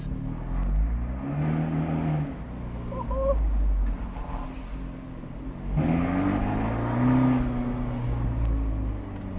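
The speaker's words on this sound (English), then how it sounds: "Oh, there's an Abarth there." A loud Abarth sports car engine roars past, revving and shifting pitch as it goes by, with a second surge of engine noise later.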